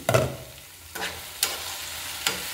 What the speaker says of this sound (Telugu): ఇప్పుడు ఒకసారి వేపుడు తిప్పుతామండి.